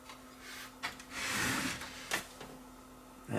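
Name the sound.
Aiwa M110 VCR tape mechanism running, pinch roller turning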